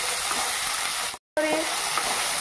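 Khapra greens and potatoes frying in a pan, stirred with a utensil, give a steady close sizzle and scraping broken by a brief gap of silence.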